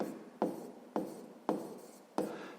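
A pen writes in a notebook during a sixth-grade maths exercise, making four distinct scratchy strokes in a steady rhythm, each starting sharply and trailing off, close and fairly quiet with no talk.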